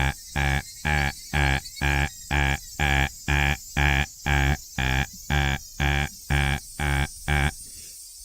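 A human voice imitates an alarm clock with about fourteen evenly spaced, buzzy beeping bursts in a steady rhythm. It is loud and close, and no other sound is heard.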